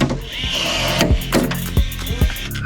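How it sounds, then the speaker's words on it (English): A rivet gun sets 3/16 rivets on an aluminum Corvette C8 drift car chassis, giving a close series of sharp mechanical clicks and snaps with a ratcheting rhythm, loud and with no talk. "it's so satisfying to hear the 3/16 rivet like break"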